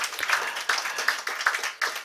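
An audience at a programme at Punjab House, Lahore claps in a short burst of dense, even applause, fairly close and moderately loud, with no talk.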